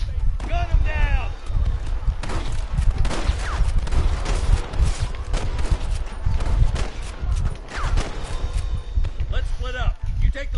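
Gunfire in Red Dead against rustler guards: rapid, repeated shots and impacts crackle continuously over hoofbeats and general commotion, with voices shouting now and then amid the fight.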